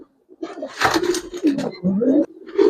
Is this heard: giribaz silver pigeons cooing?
yes